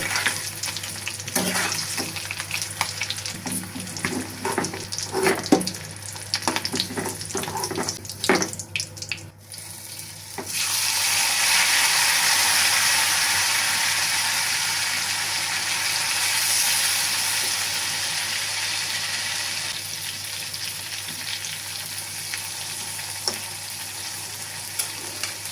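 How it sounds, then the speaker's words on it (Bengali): Potatoes fry in a pan over medium heat, first with scattered clicks and stirring clatter, then settling into a steady, fairly loud, continuous hiss of oil that lasts to the end. "এখন হচ্ছে আমি আলুগুলোকে ভেজে নেব"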